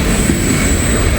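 A long freight train rolls past close by, a loud dense rumble of wheels on rails with a sustained high whine above it, steady for the whole moment.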